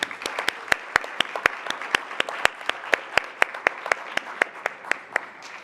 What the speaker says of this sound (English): Please, a round of applause for Randy Pestana.